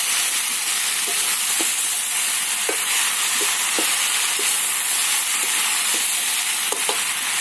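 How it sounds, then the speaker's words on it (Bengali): Radish, pumpkin and other vegetables sizzle loudly in a pan, a constant close hiss broken by regular soft scraping knocks as they are stirred. "সবজিগুলো নাড়াচাড়ার পর দেখবেন যদি প্রয়োজন হয় জল দেবেন"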